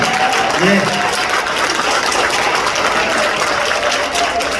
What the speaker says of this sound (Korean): 박수를 칠려면 화끈하게 치세요.